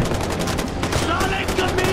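Rapid automatic gunfire from a Far Cry 4 firefight rattles in steady, close bursts through the whole moment, with a voice briefly heard beneath it.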